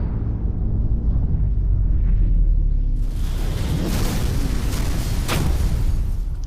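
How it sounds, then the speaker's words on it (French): A deep booming explosion from the Borderlands 2 video game rumbles low and sustained, then a bright, crackling blast bursts in partway through and stays loud to the end. "Ah non, il y a une explosion."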